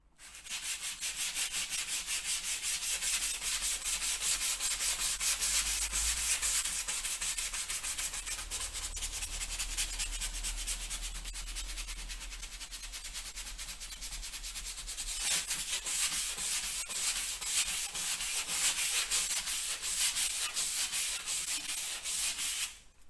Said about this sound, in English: So I'll finish the wall and then I'll sand this and then we can coat it up.